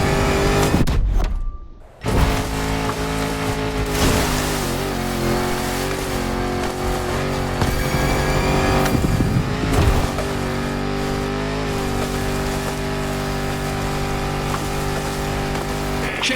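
A 400-horsepower Land Rover Defender in The Crew Motorfest revs hard in a loud, sustained engine roar. The roar drops out briefly near the start, then surges back and holds a droning, gritty pitch to the end.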